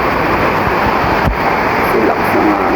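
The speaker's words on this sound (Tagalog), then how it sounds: "Yung hangin oh." A constant roar of typhoon wind buffets the microphone, broad and rushing, with one short thump in the middle.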